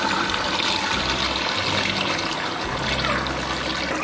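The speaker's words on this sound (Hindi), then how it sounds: "अब हमने इसके अंदर डालना है पानी, ताकि हमारा चिकन कुक हो जाए।" Water pours steadily into a pot of frying chicken being cooked for hareesa, a continuous, fairly loud splashing gush that runs for several seconds with no voices.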